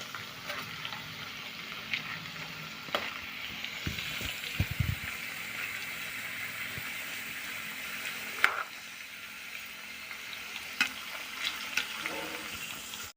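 Homemade French fries deep-fry in hot oil in a pan, a steady, soft hiss and sizzle running throughout, with a few faint clinks and stirring knocks.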